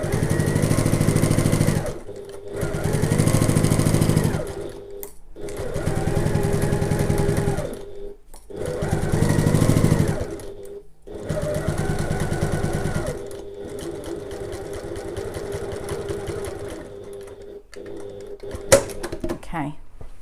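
A domestic sewing machine stitches a tote bag seam in several steady bursts, each about two seconds long with short pauses between them, loud and close, with a quieter run of stitching toward the end.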